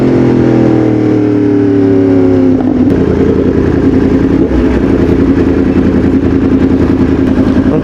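A Yamaha R1M superbike engine runs loud and close, a steady mid-pitched drone that shifts in tone partway through and carries on with a rough, rattling idle for the remainder.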